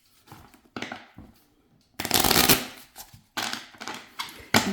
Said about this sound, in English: Let me give it a really good shuffle.